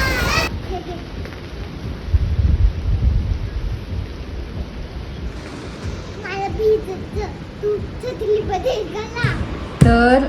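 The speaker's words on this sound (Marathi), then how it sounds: "पाऊस आलेला आहे, मोठे मोठे थेंब पडत आहे." Heavy rain with big drops falls in a thunderstorm, a dense, steady wash of noise with a low thunder rumble, while children's voices call and chatter over it in the later part.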